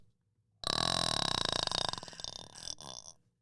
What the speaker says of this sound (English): You can burp anytime.